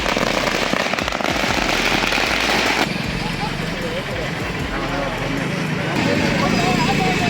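Party supporters setting off firecrackers in celebration, a dense run of rapid crackling bursts that continues throughout while a voice talks over them.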